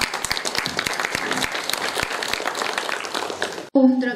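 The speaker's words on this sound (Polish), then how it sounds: "I brawo dla niej" An audience at the finale of a youth debate project in Brzostek applauds with steady, dense clapping for several seconds, then the clapping breaks off abruptly and a voice begins speaking.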